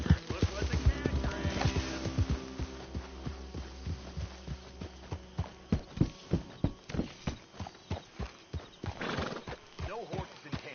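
Horse hooves clip-clop in a steady rhythm in Red Dead Redemption 2, close and fairly loud, with a horse whinnying and someone speaking briefly.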